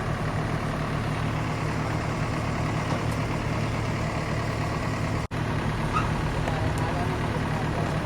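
Two tractors carrying soil in a farm field idle with a steady, unbroken low engine drone for the whole stretch, apart from one sharp momentary dropout, and no voices are heard.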